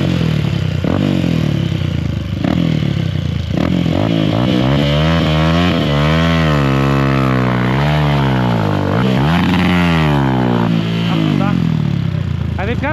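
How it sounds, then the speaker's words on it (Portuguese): Several small mini motorcycle engines rev loudly and close on a dirt trail, pitch rising and falling in sweeping waves, with people talking over the engine noise. "Todas as mini motos."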